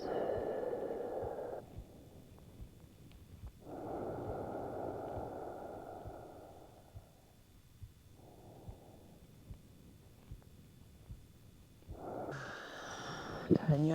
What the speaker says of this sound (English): A slow breath out of the lips.